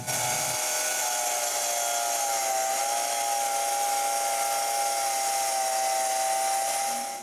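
Woodworking power tool cutting the bottom of a glued mobile workbench piece, a steady high-pitched whine that holds evenly for several seconds before cutting off at the end.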